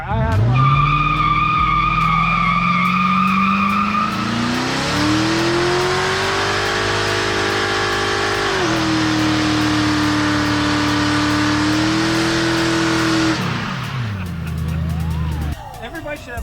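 A car engine revs hard while tires squeal in a long, rising screech as the car spins sideways, loud and close, ending with the engine easing off.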